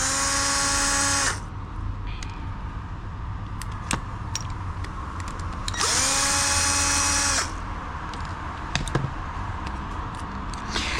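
A Wahl Vapor hair clipper motor whines loudly in two bursts, each spinning up and cutting off, with a quieter mechanical hum and a few clicks between them.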